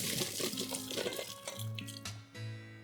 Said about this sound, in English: Let's drain the potatoes and keep it aside.